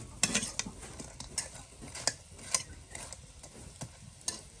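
Fritters (bora) frying in a pan give a faint, steady sizzle close by, broken by light scraping and clinks of a spatula stirring.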